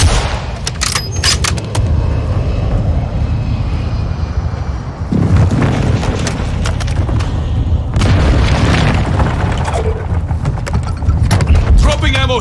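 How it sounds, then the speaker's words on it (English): Airstrike explosions in Call of Duty Modern Warfare 2 at Al Malik International: heavy booming blasts and aircraft roar build in waves over continuous gunfire and battle noise, loud and dense throughout. "Friendly airstrike in the AO."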